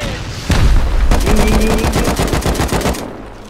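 Rapid automatic gunfire bursts out loud and close in the survival video game Rust, a dense string of fast shots with booming impacts that lasts a few seconds before dropping away.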